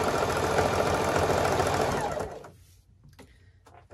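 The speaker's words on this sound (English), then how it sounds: "I don't know anybody else that can sew a jelly roll this fast." A sewing machine runs fast and close, stitching jelly roll fabric strips for a flat farmhouse rug. The loud, steady whir lasts about two seconds, then stops abruptly, leaving faint room sounds.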